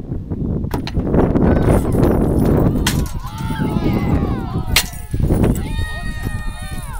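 A middle school trebuchet fires outdoors, with a sharp release crack and thump amid steady wind noise and crowd voices, followed by more cracks and bursts of chatter.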